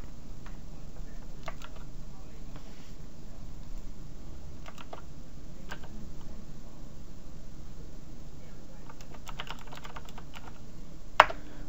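Typing on a computer keyboard, with light, steady key clicks running through the whole stretch at a quiet, close level and one sharper tap near the end.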